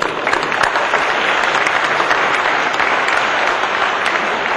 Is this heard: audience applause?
yes